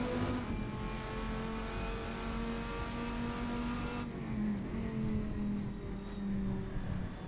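Assetto Corsa's simulated RSS GT Viper, a Dodge Viper-style race car, drones with a steady engine note while its pitch shifts through gear changes, alone and without talk.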